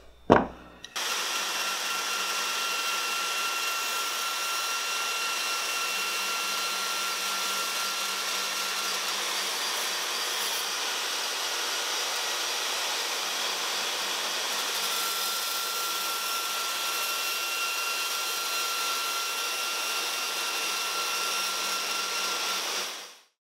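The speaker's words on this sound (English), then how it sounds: "I'm gonna go over to the portaband here and get this cut out." A portable band saw cutting through copper sheet, giving a steady, loud, unbroken whine with a high ringing tone that runs for over twenty seconds after a brief start-up, with no voices.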